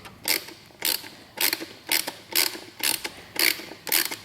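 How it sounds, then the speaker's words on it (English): A ratchet turning a 5mm Allen bit on a wobble extension loosens a thread-locked fastener on a 2015-17 Yamaha YZF-R1, with eight crisp, evenly spaced clicking bursts and no voices. "Actually using a wobble extension here, 5mm Allen and a ratchet."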